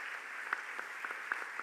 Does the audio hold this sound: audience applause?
yes